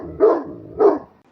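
A dog gives two loud, close barks about half a second apart, each short and sharp, with a quiet room behind and no one talking.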